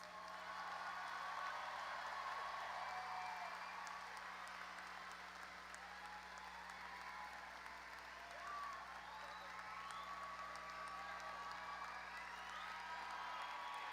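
A large crowd applauds the graduating class of Pflugerville High School 2025 at their ceremony, sustained distant clapping and scattered cheers spread across a big venue, faint and steady with a low hum beneath.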